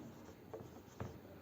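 Quiet pen strokes on paper while working out support reaction equations for a beam, two short scratchy marks against a soft room hush.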